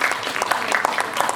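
Audience applause at a press conference and press screening for a Korean film, a steady dense clapping from a roomful of people heard alone and fairly loud.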